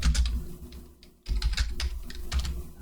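Quick, close clattering keystrokes on a computer keyboard while a program is typed in, in uneven bursts with a brief pause midway, with no talking.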